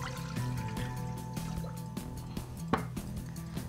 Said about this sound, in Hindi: तो मैं इसमें पानी डाल रही हूँ